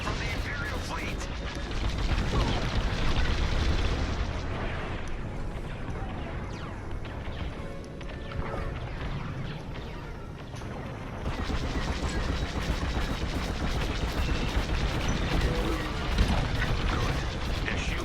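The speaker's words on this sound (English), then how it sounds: "The convoy's under fire from the Imperial fleet." A space battle in Star Wars: Squadrons fills the scene with dense, continuous blaster fire and explosion rumble at moderate loudness, easing briefly midway before swelling again, with a voice talking over the action.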